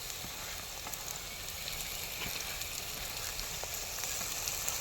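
Onions and tomato pieces fry in a pan for village-style gongura chicken, giving a steady, even sizzle with faint crackles throughout and no voices.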